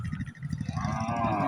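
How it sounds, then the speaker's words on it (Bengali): Cattle at the Bosila livestock market in Mohammadpur, Dhaka, with a crowded, rumbling background of animals and activity and a sustained tonal lowing that rises toward the end, fairly near. "অনেক গরুই আসছে ঢাকা মোহাম্মদপুর বছিলা গবাদি পশুর হাটে।"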